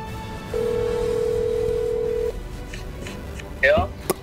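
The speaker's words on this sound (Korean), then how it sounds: "한번 전화를 해보겠습니다." A phone call being placed: a single steady tone sounds for about two seconds, then after a pause a short burst of electronic beeps and clicks follows near the end.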